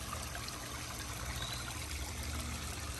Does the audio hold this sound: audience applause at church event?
no